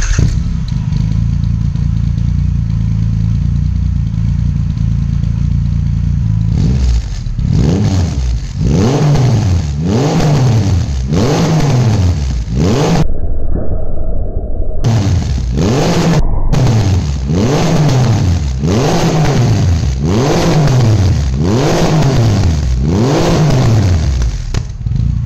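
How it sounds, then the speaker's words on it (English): A Triumph Rocket 3R motorcycle fitted with a ZARD slip-on exhaust starts with a steady idle, then gives a long series of loud, close, rhythmic revs that climb and fall, with a brief cut partway through. "this will be the first start on this brand new exhaust, and let's listen to how it sounds."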